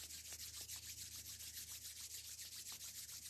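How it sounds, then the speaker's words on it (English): Palms rubbed briskly together during a fall equinox ritual, a faint, steady swishing friction in quick back-and-forth strokes over a low background hum. "first let's rub our hands together to get that chi flow"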